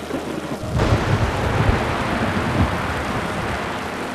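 Heavy rain from a thunderstorm pours steadily as a deep rumble of thunder rolls in, loud and sustained, then fades into continuing downpour.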